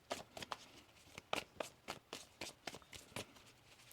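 A deck of tarot cards being shuffled by hand, crisp riffling flutters and light taps in quick irregular bursts, close and quiet with no talking.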